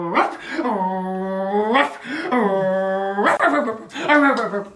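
A dog yelps and whimpers in long drawn-out, high-pitched cries, three loud close bursts that rise and fall, with no other sounds.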